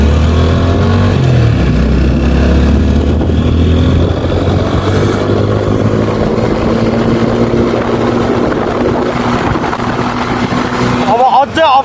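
Motorcycle engine droning steadily throughout a Saturday ride on a rough, obstacle-strewn trail near Tare Bhir, with a rider's voice talking over it and a brief sharp burst near the end.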